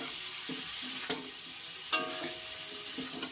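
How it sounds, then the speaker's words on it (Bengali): Chicken pieces fry over medium heat in a pan under a steady close sizzle, with two sharp clattering spatula strokes as the meat is turned. "মাঝারি ধরনের আঁচ দিয়ে আমি মাংসটা ভেজে নেব বাদামি কালার চলে আসলে আমি মাংসটা নামিয়ে ফেলব"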